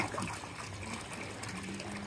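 Water gushes steadily into a pond liner, a continuous splashing, trickling wash at close range with no pauses.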